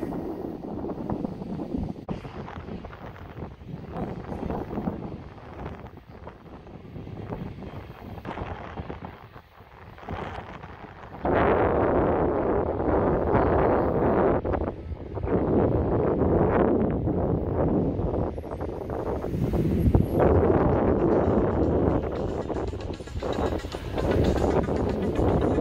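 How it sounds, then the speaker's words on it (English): KLM Boeing 777-300 airliner just after touchdown, a loud sustained broadband roar with wind buffeting the microphone, swelling louder midway through and staying strong to the end. "There comes Arlene's plane, KLM 777-300, my favorite plane"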